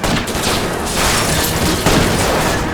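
Rapid burst of gunfire in the L.A. Noire video game, shots aimed at a fleeing car's tires, loud and dense with little gap between rounds.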